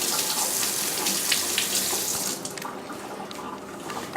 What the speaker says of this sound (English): I rinse off my spoon